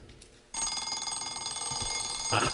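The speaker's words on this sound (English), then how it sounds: "and of course it's the sound of the alarm clock." An alarm clock rings loudly and continuously with a bright metallic bell tone, starting abruptly after a brief quiet moment.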